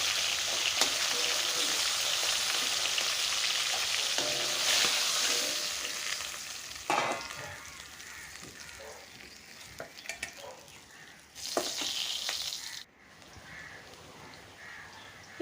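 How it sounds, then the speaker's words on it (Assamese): Food frying and being stirred in a pan for muri ghanta, a steady hiss with scraping stirs and a few louder bursts, moderately close, no talk. "ভালদৰে ৰঙচুৱাকৈ ফ্ৰাই কৰিছোঁ"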